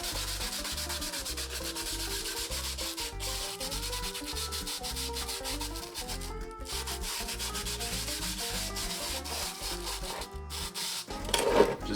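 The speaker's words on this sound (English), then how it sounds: "we're going to take this P80 sandpaper," P80 sandpaper scrubs back and forth over a black velvet board in a continuous, steady, close rasping rub.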